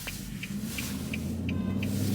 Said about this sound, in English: We're right in the middle of rush hour traffic